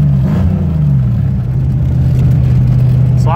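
Ford Mustang engine revving under throttle after an ignition and distributor repair, a loud, close, steady low drone that swells slightly, heard from inside the car with no talking.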